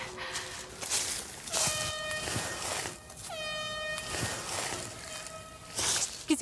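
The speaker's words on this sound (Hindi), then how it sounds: "हॉर्न बज रहा है, शायद हमारी टीम ने ढूंढ ली।" An air horn sounds several times out in the wilderness, with repeated tonal blasts of varying length, one sliding in pitch, over faint outdoor background noise and soft movement sounds.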